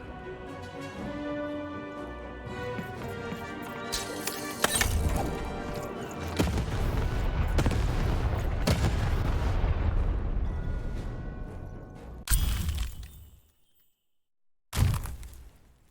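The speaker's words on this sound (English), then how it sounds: "Shoot the button to fire the cannon." A cannon fires in the Lost in Random video game, loud booming blasts and crashing impacts over dense game music and effects, ending with a sharp final shot after a brief silence.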